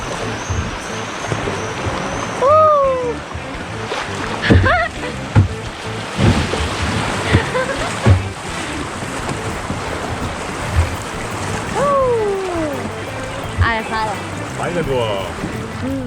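Rushing river water and wind noise, with splashing and a few voices calling out over the churn of fast-moving rapids during a kayak trip on the Nysa Łużycka river.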